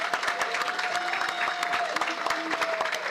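Audience applause at a RiderTown community gathering, a steady dense patter of many hands clapping close and loud, with a faint murmur of crowd voices underneath.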